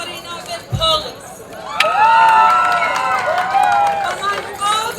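Moms at a kids' dance performance at an outdoor food festival screaming and cheering, a dense crowd of high shrill whoops and shouts rising after a thud and sustained through the rest.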